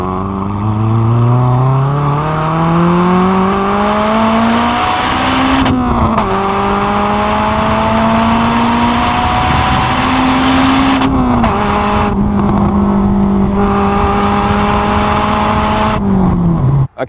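Honda Civic Type R EP3 fitted with a Spoon N1 cat-back exhaust revving hard, loud and close, climbing through the revs in long sustained pulls with brief drops between them and a sharp cut at the end.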